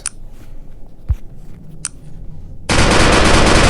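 A modded gun fires in the game Melon Playground. A few sharp isolated clicks come first, then a sudden dense, loud stream of rapid automatic fire runs to the end.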